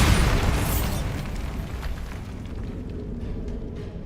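The Bombarda blasting spell in Hogwarts Legacy lets off a loud, close boom that starts with a burst and then fades into a rumbling decay over several seconds, with no voices.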